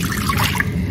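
Warm water pours into a mixing bowl for pretzel dough in a home kitchen, a short steady trickle and splash heard close up.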